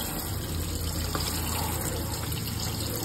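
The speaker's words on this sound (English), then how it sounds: "You take the pedal and stick it down where it starts throwing the water on the pump." A Thetford Aqua Magic RV toilet sprayer spraying water, a continuous hissing gush held steady for about three seconds, close and alone with no talking.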